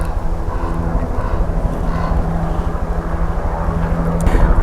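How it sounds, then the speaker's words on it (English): Helicopters passing overhead in a home setting, a loud steady engine and rotor drone that swells slightly toward the end, with a faint voice underneath. "and now it's helicopters going over"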